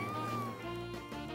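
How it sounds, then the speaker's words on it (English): Kittens meowing in a short, clear, high-pitched cry that slides downward, close and fairly quiet, with no talk. "I shall demonstrate with kittens."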